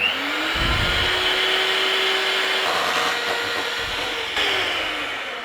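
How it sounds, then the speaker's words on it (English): An electric hand mixer whirs steadily as it whips cream with a little vanilla for diplomat cream, a constant close, loud motor drone with a brief dip near the end. "we're going to give that cream a whipping up."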